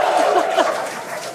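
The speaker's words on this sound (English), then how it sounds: "A very excited crowd there." An excited crowd cheers at the SpaceX Polaris Dawn launch, a dense wash of voices and whoops that is loud and steady through the brief moment, fading slightly toward the end.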